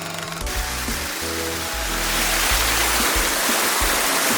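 Spring water pours steadily from its source, a dense, close rushing and splashing that continues without a break.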